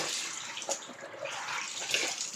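Water splashes and sloshes steadily as clothes are washed by hand in a basin, a close, continuous wet swishing with no talk.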